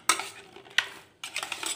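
Metal utensil scraping and stirring chicken in a pan for butter chicken, in three short bursts with brief pauses, close and fairly quiet.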